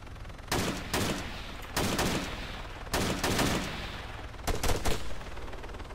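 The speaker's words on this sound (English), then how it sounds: "That gunfire is enemy." Enemy gunfire in the Arma 3 game's Wasteland Chernarus mode: four loud bursts of rifle shots crackle at irregular intervals, each a short cluster of reports over steady background noise.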